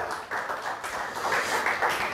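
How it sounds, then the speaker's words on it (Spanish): A congregation clapping in a church service, a short, dense run of overlapping claps with a soft roomy wash, fairly even in loudness. "Denle un aplauso al Señor, aleluya."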